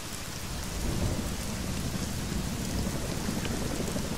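Dense, steady rain hisses over a low rumble of thunder in the video game Deus Ex: Mankind Divided, a constant loud wash of downpour with no talking.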